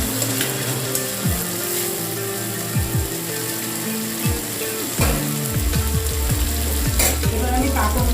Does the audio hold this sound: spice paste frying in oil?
yes